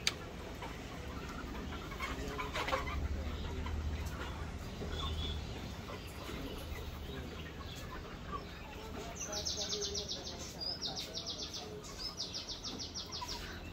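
A young rooster of about 63 days, kept as parent stock for hatching eggs on a poultry farm, clucks softly amid faint bird chirps and background voices.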